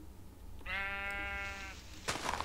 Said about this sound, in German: Aber so können die einfach die Schafe da reinlaufen und die sind gefangen